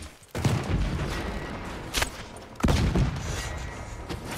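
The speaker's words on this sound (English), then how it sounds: "And fireball." A fireball cheat in the Red Dead Redemption video game sets off booming blasts: one sharp burst near the start, a smaller thump mid-clip and a second loud boom, each trailing into a rumbling roar.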